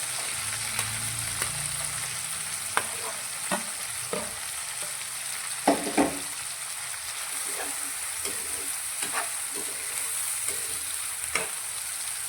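Chopped capsicum sizzles steadily in a hot pan of tempered oil, with scattered sharp clicks and scrapes of stirring over the continuous frying hiss.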